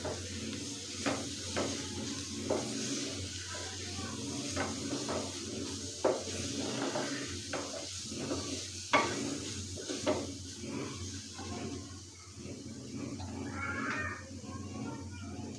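Shredded boiled chicken and cheese bread mixture being stirred in a bowl, a quiet run of soft repeated scrapes and clinks from a spoon, close and steady.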